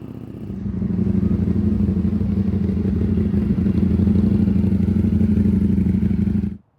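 A 2025 Ducati Panigale V4 with new wheels and a quick shifter rides past on a test ride, its engine a loud, sustained rumbling drone that swells in and holds before cutting off abruptly.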